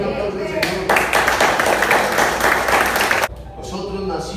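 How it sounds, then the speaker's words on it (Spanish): A church congregation breaks into loud, sustained applause for about three seconds, a dense wash of clapping that cuts off abruptly and is followed by a spoken voice. "Un aplauso al Señor."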